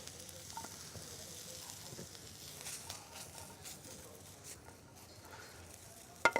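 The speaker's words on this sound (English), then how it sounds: "we're going to add our clarified butter to the saute pan, which is nice and hot. We're going to add the mushrooms." Mushrooms sauté in hot clarified butter in a saute pan, giving a steady soft sizzle with light crackles and an occasional stir, close and fairly quiet with no speech.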